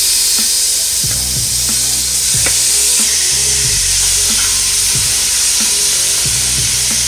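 Pork ribs sizzling in olive oil in a pan on a stove, a loud, dense crackle of frying with frequent pops and the occasional clink of the pan, steady throughout.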